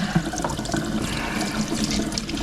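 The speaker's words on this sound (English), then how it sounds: "So just a water rinse," Running tap water rinses rubber stamps, a steady continuous splash and gurgle of water close by, with no talking.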